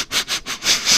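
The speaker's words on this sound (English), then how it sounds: "sniffs the air," Several quick, close nasal sniffs of the air, airy and hissing, in a short rhythmic burst with brief pauses between inhalations.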